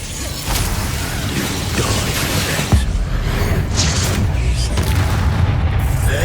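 Spell blasts from Hogwarts Legacy combat: a dense, continuous wash of rumbling booms and bursts, with a sharper crack near the middle, loud and close, without speech in the clip.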